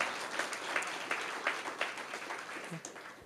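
Church congregation clapping for God during a sermon, a steady dense patter of many hands at moderate distance with no voices over it.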